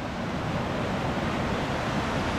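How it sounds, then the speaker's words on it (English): Fast-flowing river water rushes under Tummel Bridge, a loud, unbroken roar of turbulent flow with wind-like noise, steady throughout and no voices. "look how fast flowing this water is."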